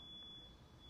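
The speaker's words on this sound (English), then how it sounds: "sounds like someone's fire alarm" A neighbour's fire alarm beeps faintly in the distance, a thin steady high tone that holds for about half a second and fades, with quiet room noise around it.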